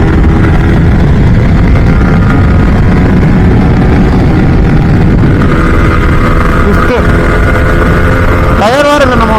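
A Yamaha R15 V3 motorcycle accelerates hard along a stretch of road: a loud, continuous engine drone with a sharp rising rev sweep near the end.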